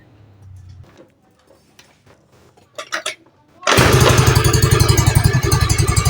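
A Honda Vario 110 scooter engine starts after some quiet handling noises and then runs loud and close with a fast, steady, pulsing idle until the end.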